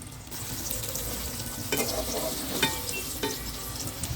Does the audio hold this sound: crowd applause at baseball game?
no